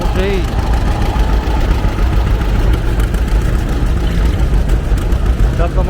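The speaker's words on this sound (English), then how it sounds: "I'll show you as it goes by how wide that looks in the back. And there's that big tall John Deere Highboy Model G." A tall John Deere Highboy Model G antique tractor rolls past at an outdoor antique tractor show and parade, its engine a steady, loud low rumble with crowd noise around it.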